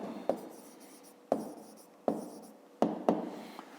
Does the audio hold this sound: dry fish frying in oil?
no